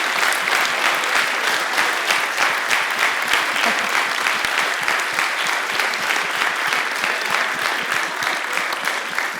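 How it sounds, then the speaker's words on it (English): A room full of audience members at a public conversation event applauds warmly, a loud, close, continuous patter of many hands sustained for about nine seconds with no talking on top. "Can we have a round of applause for that?"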